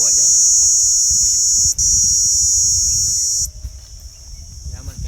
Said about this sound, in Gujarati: તમરા બોલે છે આ